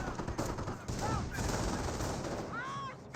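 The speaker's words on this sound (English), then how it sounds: "Greyhound firing some shots there on this grenadier." Gunfire from a Greyhound armored car in the real-time strategy game Company of Heroes, firing on a German grenadier: loud, sustained bursts of shots with whistling ricochet-like sweeps, under battle noise and a faint voice.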